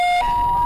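An ambulance siren sounds loud and close as it arrives at a roadside accident scene, a sustained electronic tone that steps up in pitch partway through. No speech.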